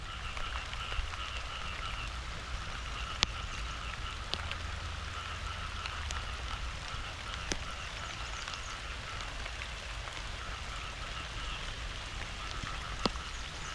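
Steady, dense rain pours down continuously during a storm over a cassava field in Rayong, Thailand, with frogs croaking in the background and occasional sharp drips or clicks.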